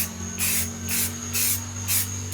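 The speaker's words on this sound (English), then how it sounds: "I'm just using some quick dry black primer." Quick-dry black primer sprayed from an aerosol can onto a particle-board speaker baffle during a Peavey Bandit amp restoration: four short, close bursts of loud hissing spray with brief pauses between them, no talking.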